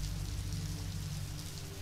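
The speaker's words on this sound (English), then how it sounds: "relaxing rain. Again, there's rain and it's foggy." Steady, soft rainfall hisses evenly with a low rumble beneath, faint and constant throughout.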